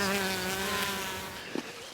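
A bee buzzes close by in a garden, a loud, steady droning hum that wavers slightly in pitch. It fades a little toward the end, with a couple of faint knocks.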